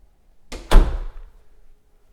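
A coat closet door by the entry of a new-construction luxury home is pushed shut, making two quick knocks followed by a solid, resonant thunk that fades within a second.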